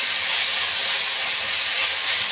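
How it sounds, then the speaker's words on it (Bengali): Ginger and garlic paste sizzles in hot oil for a Bengali egg and potato curry, a loud, steady hiss that runs unbroken throughout with no speech. "কাঁচা গন্ধটা যাতে না থাকে আদা রসুন বেশ একটু ভালো করে ভেজে নেব।"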